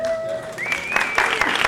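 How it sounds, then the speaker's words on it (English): Audience members clap briefly at a talent showcase, with scattered sharp claps over a tonal, sung or sustained voice and room noise in the background. "Clap your hands."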